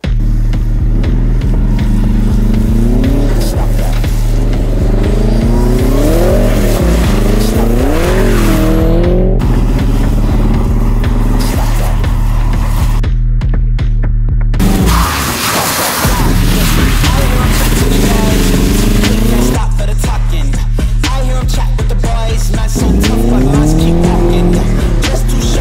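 A Fiat 126p with a Subaru 2.2 turbo engine swap revs hard and drives loudly, its engine pitch rising and falling while tires squeal through repeated bursts, with a brief lull midway and a few faint voices.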